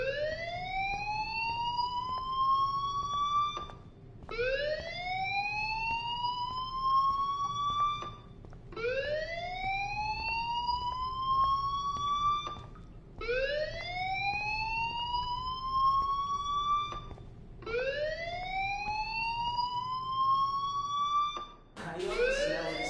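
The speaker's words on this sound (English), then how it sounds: "do you hear that fire alarm?" A fire alarm in the video game Life is Strange gives five loud, steady rising whoops in a repeating cycle, each lasting about four seconds, with no voices over it.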